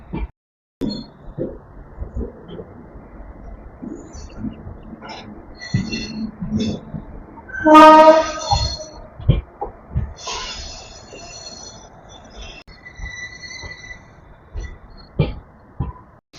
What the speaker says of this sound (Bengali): ট্রেন ছাড়তে না ছাড়তেই এক্ষুনি ট্রেন পুলিং হয়ে গেল